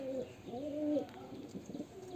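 A pair of pigeons, a male and a green-toned female, coo in soft, rolling, repeated phrases close by, the low burbling calls overlapping through the whole stretch with no talking.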